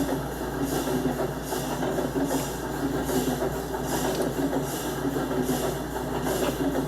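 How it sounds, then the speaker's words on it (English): A diesel locomotive runs along high-speed track in the Minecraft video game, rounding a corner: a steady, continuous engine rumble with a faint rhythmic pulse, no voices. "The diesel fumes flying out of the locomotive."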